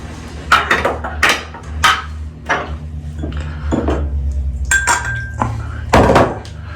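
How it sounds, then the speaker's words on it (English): Metal safety razor fitted with an Astra blade being screwed tight, giving a run of close, sharp metallic clicks and clinks in an irregular rhythm, with no talking. "Make sure my safety razor is nice and tight."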